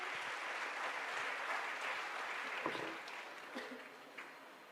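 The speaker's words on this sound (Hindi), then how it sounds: "एक बार जोरदार तालियों से स्वागत करेंगे।" Crowd at a Hindu religious gathering applauding a welcomed social worker, a steady wash of clapping that fades slightly toward the end, faint and distant, with a few faint voices.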